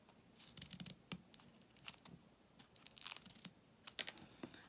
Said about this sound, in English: I've just got that center to cut out.